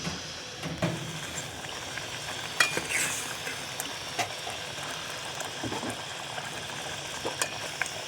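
A spoon stirs a vegetable curry in a pan, producing soft scraping and clinking over a steady low sizzle, with a few scattered taps.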